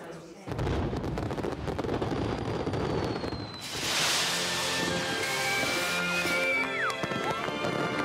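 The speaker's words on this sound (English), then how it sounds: "The fireworks bring a moment of pure Regency magic." Fireworks crackle and pop amid a busy outdoor crowd at a Regency-style house party, with a whistling rocket rising and bursting near the end over steady background music.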